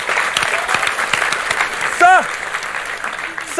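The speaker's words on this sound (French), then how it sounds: "applaudissez tous. Applaudissez." An audience at a French rap battle claps loosely and scattered, with someone shouting over it and a brief whooping voice in the middle, the applause fairly close and uneven.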